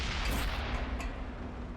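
Tank gun fire in World of Tanks, a dense booming rumble from a distant shot that rolls on through the whole short moment with no voices.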